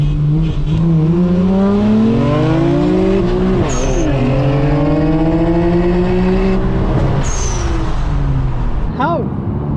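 A Nissan Skyline R33 GTR engine in a racing video game revs hard and high through rising, sustained pitch sweeps, with brief tire squeals and voices talking over the loud engine.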